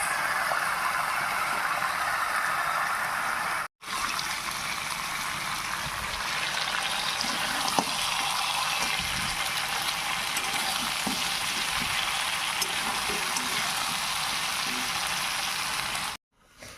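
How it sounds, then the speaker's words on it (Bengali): Country chicken curry with leg pieces cooks down in a pan, fried and stirred: a loud, even sizzle with soft scraping, broken by two brief cuts to silence, with no talking. "এখন এটাকে ভালো করে কষানো হবে"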